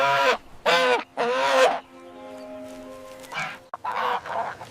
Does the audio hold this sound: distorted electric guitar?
no